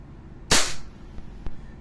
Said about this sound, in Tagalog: FPS test. Firing.